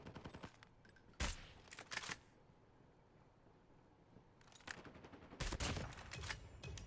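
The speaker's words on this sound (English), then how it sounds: "Hey, stop shooting at me." Rapid gunfire bursts from the mobile shooter Call of Duty: Mobile, with two loud volleys early and a longer run of rattling shots later, separated by a quieter stretch of low background noise.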